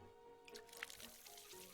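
In the game Wanderstop, water pours from a watering can onto a growing plant: a soft burst of splashing and dripping starts partway in, with one bright droplet plink, then settles into a faint trickle.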